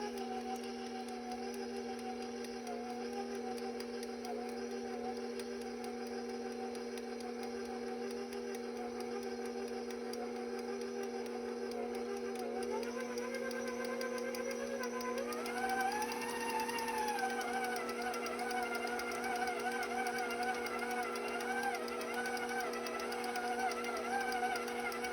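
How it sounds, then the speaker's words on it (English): An electric mixer whirs continuously through oatmeal chocolate chip cookie dough, a steady mid-level motor drone whose pitch shifts and rises partway through as the dough comes together. "I'm going to mix until they're fully combined."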